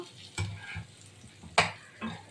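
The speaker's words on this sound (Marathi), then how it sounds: "तर असं छान परतून घ्यायचं आहे" Stuffed eggplant sautéing in gravy in a pan, with a few distinct stirring scrapes and soft sizzling bursts spaced unevenly, close and fairly quiet.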